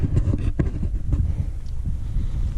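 Strong wind buffets a hiker's microphone on a high mountain pass in the Never Summer Wilderness, a loud, continuous low roar with uneven gusting surges throughout.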